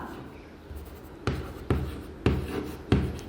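A pen writes a letter to a headmaster by hand on paper. Soft, close scratching strokes repeat in an even rhythm, with four distinct bursts of writing and no voices.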